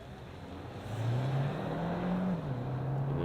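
A Hyundai Tucson hybrid accelerates hard in sport mode from 80 to 120, its engine rising into a loud, steady drone with a climbing tone and a brief shift-like dip, heard from inside the cabin.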